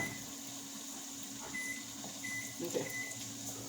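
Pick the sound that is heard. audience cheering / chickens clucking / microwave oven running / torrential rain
microwave oven running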